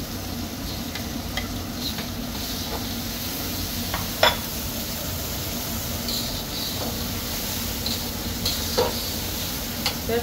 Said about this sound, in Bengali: মশলার পেস্টটা দিয়ে দিলাম।